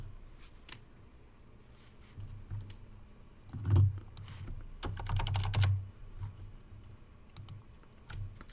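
A computer keyboard being typed on, with scattered keystrokes that build into quick, close, clicky bursts before thinning out again, and no talking.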